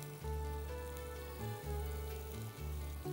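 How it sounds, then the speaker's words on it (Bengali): Kebabs fry in ghee in a pan with a steady, close sizzle and crackle, a low hum running underneath throughout. "কাবাবের যে রকম টিপিক্যাল ভাজাটা হয়"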